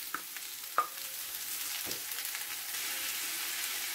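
Peppers and noodles fry in a hot pan with a steady sizzle, broken by a few sharp crackles and stirring scrapes near the start, then settling into a continuous hiss with no talking.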